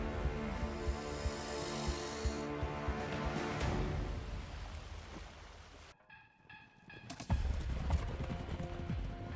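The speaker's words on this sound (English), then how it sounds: "Now there are the mustangs, or wild horses, the symbol of the American Wild West." Wild mustangs of the American West: a quick, close run of hoof clip-clops, followed by a brief quiet break and then more hoofbeats with a whinny-like cry.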